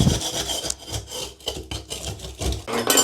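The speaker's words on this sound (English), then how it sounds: "this will be a really good little scraper just to get some of this thin set off without damaging the membrane underneath" A small hand scraper rubs and scrapes thinset mortar off a waterproofing membrane. Several short, gritty strokes come up close in a loose rhythm, alone with no talking.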